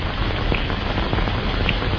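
Heavy rain falling steadily, a dense continuous hiss with faint scattered drips, loud and unbroken with no voices.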